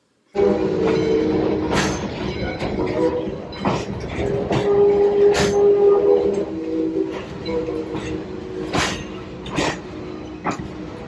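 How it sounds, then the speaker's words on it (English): A train rumbles steadily along the tracks, with a rhythmic clatter and periodic sharp bursts over a constant mechanical drone, close and loud. "it's got that old steam train railroad sound to it"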